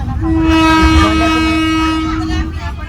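The Bukit Serelo passenger train arriving at Bunga Mas station sounds a long, loud, steady horn blast over rumbling rail noise, and the horn cuts off near the end.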